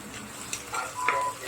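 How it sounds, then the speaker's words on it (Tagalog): Garlic and then onion sauté in a pan, a soft, steady sizzle with a few faint stirring scrapes, heard close and fairly quiet, with no one talking. "ginisa ko yung bawang, tapos sibuyas"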